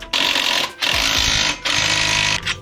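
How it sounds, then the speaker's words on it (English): An impact wrench tightens a hub nut on a 2021 Can-Am UTV in three loud, close rattling bursts separated by short pauses. "And then now you could hit it with the impact."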